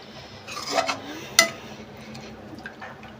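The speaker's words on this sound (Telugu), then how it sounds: "ఇప్పుడు పాలు పోసుకున్నాక బాగా కలబెట్టుకోవాలి" A spoon stirs carrots fried in ghee with added milk in a pan while making carrot halwa, giving a few soft scrapes and a sharp metallic clink, close and otherwise quiet.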